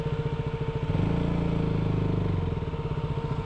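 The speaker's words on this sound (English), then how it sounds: "if I would grab the front brake like this, I have to catch the bike with my foot." A light motorcycle idles and putters at slow speed nearby, its steady pulsing engine note swelling briefly in the middle as the front brake is grabbed, then settling back.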